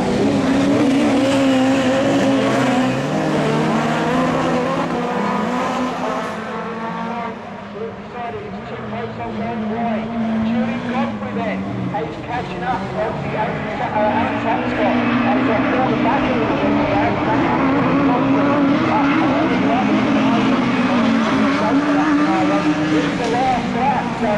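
Rallycross Super Modified race cars roar around the Lydden Hill circuit in a winter round final, engines loud and sustained with tire noise, under continuous commentary.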